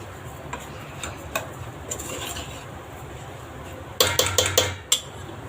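Samba semolina dry-roasting in a pan, with scattered light scraping and ticking stir strokes and a quick burst of sharp metallic scrapes near the end, close and moderately loud.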